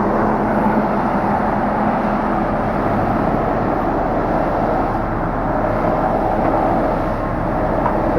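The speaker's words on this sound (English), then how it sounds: "here comes the dozer" A bulldozer with a front blade and a big wheel drives on a construction site. Its engine gives a steady, loud, close rumble and roar that stays even for the whole stretch, with no talking.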